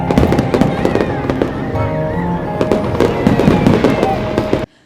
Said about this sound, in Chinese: 这次在基隆地标上面呈现的高空烟火灿烂夺目，让民众大呼过瘾